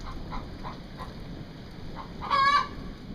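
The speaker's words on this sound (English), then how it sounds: "as you can probably hear, with several chickens in this guy's garage" Several chickens cluck in a cluttered garage shared with a tractor, motorcycle and old car in rural Tennessee, giving soft scattered clucks over steady background noise, with a louder burst of calls near the end.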